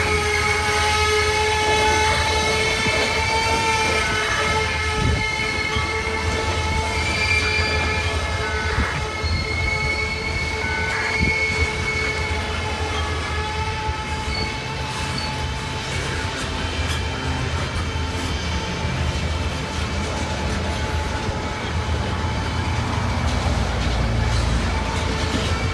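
A long freight train rolls steadily through the Gallitzin tunnel in Pennsylvania, with loud continuous rumble, wheel noise and sustained squealing tones from the wheels on the rails, close and unbroken throughout.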